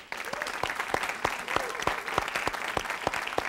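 A TV studio audience claps for a show guest with steady, moderately loud applause. Sharp individual claps stand out in an even rhythm throughout, and there is no talk.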